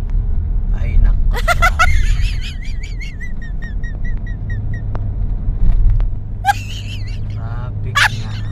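Slow road traffic rumbles low and steady around a vehicle crawling in a jam, with squeaky tonal chirps and a voice talking over it.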